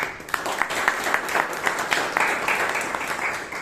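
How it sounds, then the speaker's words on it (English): Round of applause for the Toastmaster at a Bangalore Toastmasters club meeting, a steady mass of clapping hands from the room, fairly loud and continuous throughout. "Can we have a round of applause for Toastmaster Nisha as well"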